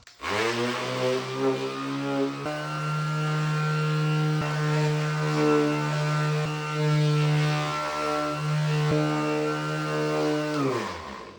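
A polishing machine buffs a fogged plastic headlight lens, its motor holding a steady, loud tonal whine that starts abruptly and runs evenly for about nine seconds before winding down.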